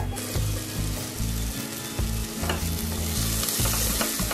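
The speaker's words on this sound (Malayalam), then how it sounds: "ഇതിലോട്ട് നമുക്ക് അരച്ച അരപ്പിട്ട് കൊടുക്കാം. നന്നായി ഒന്ന് ഇളക്കി കൊടുക്കാം." Loud sizzling as a ground paste is stirred into frying onions for a Kerala-style ulli theeyal, with repeated scraping strokes of a spoon against the bottom, close by.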